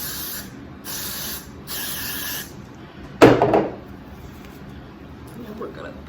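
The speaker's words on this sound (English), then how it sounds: "I'm just gonna spray my hairline." A single short burst of hair glue aerosol spray hisses up close onto a hairline, following some soft rustling and faint background noise.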